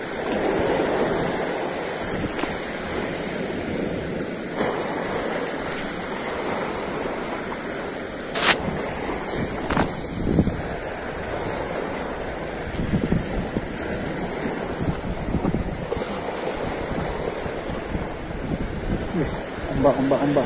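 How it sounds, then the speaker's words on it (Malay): Ocean surf breaking against rocks along a rocky shoreline fishing spot, a steady roaring wash of waves with a few sharper splashes and some wind noise, continuous throughout. "Ombak."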